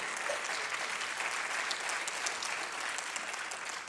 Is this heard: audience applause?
yes